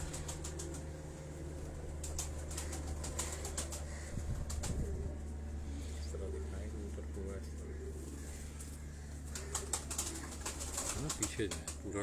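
Pigeons in a breeder's loft coo steadily while wings flap in short bursts and someone talks over them.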